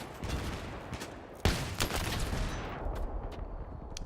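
Battlefield 3 gameplay, with a burst of game gunfire that includes a sharp, loud shotgun blast partway through, followed by scattered shots and rattling fire in a busy, noisy mix.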